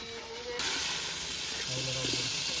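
Tomatoes tossed into a hot pan for chicken uppukari set off a sudden, loud sizzle that keeps hissing steadily, with a voice speaking briefly underneath.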